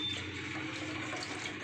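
Milk poured into ragi malt while it is stirred in a pot, a brief soft liquid trickle and sloshing heard up close and faint, with no talk.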